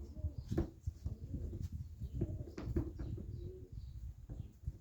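Pigeons, including four hens, coo softly in a loft, low murmuring calls repeating close by with light scuffling, no speech.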